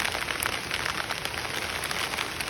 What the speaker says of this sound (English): It's so soothing here in the sounds of rain and folks.